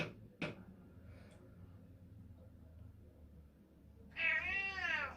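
A cat meows loudly and close by near the end, a drawn-out wavering call, after a quiet stretch with faint background noise and a brief knock.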